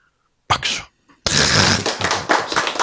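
Audience applause in a Korean church lecture hall: a short patter of hand claps, a brief pause, then a louder, sustained round of clapping from a nearby crowd.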